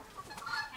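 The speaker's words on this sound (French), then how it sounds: "sont des poulets de 3 mois" Three-month-old chickens on a farm, clucking softly and intermittently at a distance, faint and brief with no one talking.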